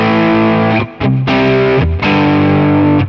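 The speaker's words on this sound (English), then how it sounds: "you can hear that has a lot more gain to it than on the capture" A high-gain distortion guitar pedal played through an Amalgam capture rings out in loud, sustained chords. Three strums are separated by brief gaps, all saturated and dense, with no voices.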